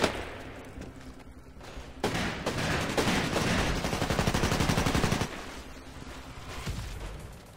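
Rapid bursts of automatic gunfire from the Xbox 360 shooter Titanfall crackle in a dense, loud volley that swells mid-stretch, framed by quieter stretches of game ambience before and after.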